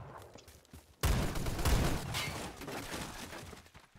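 M60 machine gun in the Phantom Forces shooter game, a sudden loud burst of rapid gunfire that starts abruptly after a quiet moment and fades into scattered echoing shots.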